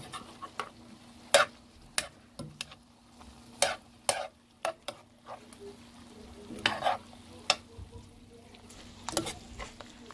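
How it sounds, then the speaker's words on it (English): Seasoned shrimp being stirred in a frying pan: a soft low sizzle under a series of sharp spatula clacks and scrapes against the pan, irregular and close, with a faint steady hum beneath. "Now give your shrimp a good stir."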